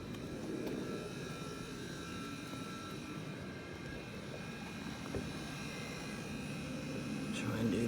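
Under the hood of an MG4 electric car, the air conditioning gives off a steady, faint buzzing hum with fixed tones. It sits alongside background noise, and people talk nearby.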